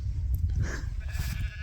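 A sheep bleats faintly a couple of times on a windy mountainside in the Brecon Beacons of Wales, with strong wind rumble over the microphone.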